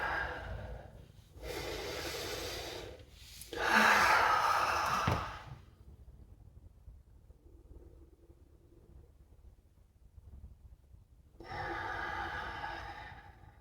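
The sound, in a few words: deep breathing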